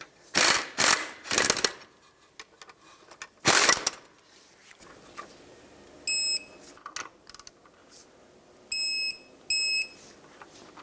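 A ratcheting torque wrench clicks in quick loud bursts while tightening brake caliper slider pins on a 2003-09 Toyota 4Runner's rear brakes, followed by several short electronic beeps from the wrench signalling the set torque.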